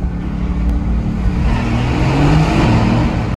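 A Mercedes-Benz AMG GT S engine accelerates inside a tunnel, a loud, close, rising roar that builds steadily over a few seconds, reverberant and unbroken.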